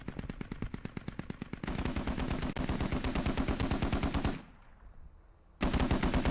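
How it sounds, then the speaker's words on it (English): Sustained rapid automatic gunfire in a video game match, loud and close, in rattling bursts with a brief lull near the end before the firing resumes. "now we hear a lot of gunfire opening up."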